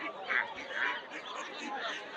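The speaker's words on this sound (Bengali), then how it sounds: "আপনারা দেখতে পাচ্ছেন হাঁস" Ducks at a village poultry market where ducks and chickens are sold, giving a few nasal honking quacks over a busy background murmur of market chatter, fairly close and moderately loud.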